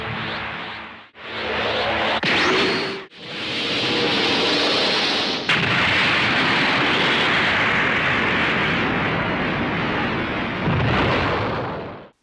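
Vegeta's Super Big Bang attack from Dragon Ball Z, a huge roaring explosion effect that bursts in a few quick blasts and then swells into a long, loud, sustained rumble.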